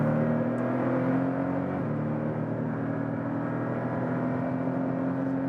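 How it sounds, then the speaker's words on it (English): A Porsche 718 Boxster GTS four-cylinder engine drones steadily at speed with a sustained mechanical hum and a slight dip in pitch partway through, heard from inside the car with no talking. "when you're listening to that sound and also hear and see what the car is doing, what speeds we are actually at, you wouldn't guess that this is a 4-cylinder"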